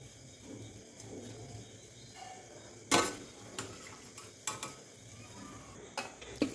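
A spoon scoops fried onion and green chilli with oil onto layered rice in a pot for mutton biryani, giving soft scraping and a few sharp metal clinks against the pot rim, close and moderately quiet.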